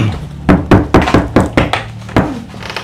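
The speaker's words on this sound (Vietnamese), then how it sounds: "Ai gõ cửa?" Knocking on a wooden door: a loud, close series of about eight heavy thuds in an uneven rhythm, a quick cluster followed by a pause and one final knock, with no talking.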